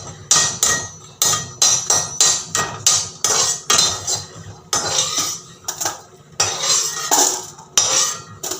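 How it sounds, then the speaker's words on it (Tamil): Cashews are roasted in a pan under a loud, rapid run of sharp metal knocks and scrapes as a spoon stirs against the pan, close and continuous with no talk. "இப்போ முந்திரியும் இந்த அளவுக்கு கொஞ்சம் வறுத்து எடுத்துக்கலாம்."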